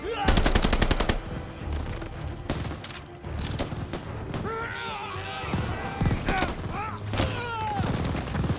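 Sustained machine-gun fire from a mounted MG on a WWII half-track in Call of Duty: Vanguard, loud rapid bursts up front, with shouted battle voices and other gunfire continuing over a busy combat din.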